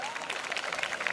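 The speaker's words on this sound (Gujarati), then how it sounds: "જોરદાર તાળીઓ ભાઈ" An audience at a school award ceremony for top Class 10 and 12 students claps, a dense burst of many hands applauding together, close and lively.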